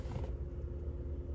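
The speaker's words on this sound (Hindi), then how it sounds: "स्टीयरिंग व्हील ऑटोमेटिकली पीछे चला जाता है, जिससे कि आपको जो है निकलने में गाड़ी से आसानी हो" Motorized steering wheel in a Rs 50 lakh car retracting automatically once the car is switched off: a brief, soft mechanical whir and creak, then a low, quiet rumble as the motion settles.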